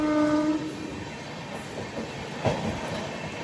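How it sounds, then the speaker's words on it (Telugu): A train pulls into the coach care centre at Surat and comes to a halt, with a brief horn blast at the start, then steady rolling wagon rumble and a squealing brake screech near the end. "ఏదో బండి వస్తుంది, ఆగింది బండి."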